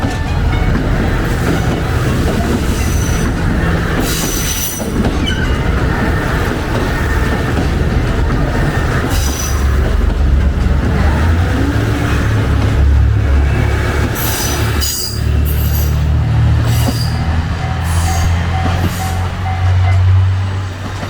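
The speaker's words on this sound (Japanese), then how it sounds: "お次は特急浜風。 3番線から出発する霞始発の列車です。" The Hamakaze limited express train pulls away from Kasumi Station, its loud, close rumble steady throughout, with wheels squealing on the rails and faint voices underneath.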